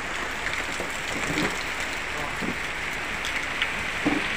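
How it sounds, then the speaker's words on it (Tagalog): Light rain patters steadily over a cornfield on a farm, a soft continuous hiss with scattered faint drop taps and occasional small knocks, quiet and without speech. "Yan, ulan na."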